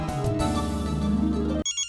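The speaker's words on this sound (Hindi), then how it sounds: "एक मिनट, फोन है।" A mobile phone ringtone plays a loud, steady electronic melody at close range for under two seconds before cutting off abruptly.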